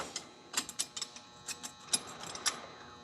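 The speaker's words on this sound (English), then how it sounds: "So I got to use my screwdriver and a wrench and break those loose," Wrench and screwdriver working on a wheel of a 2000 Dodge Ram 2500 Cummins during a front wheel bearing job, producing a series of close, sharp metallic clicks and ratcheting ticks at irregular intervals.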